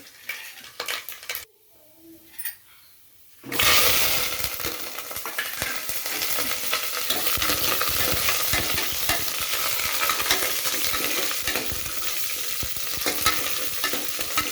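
Seeds hit hot oil for a curry and burst into loud, steady sizzling and crackling after a brief quieter stretch of pan and utensil handling.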